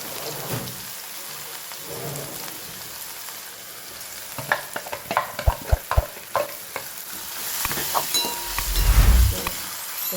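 Cumin, asafoetida, chopped tomato and red chili are stirred into hot oil in a pan for chana dal. Steady sizzling runs under sharp scraping stir strokes and clatter, with a louder burst of frying near the end.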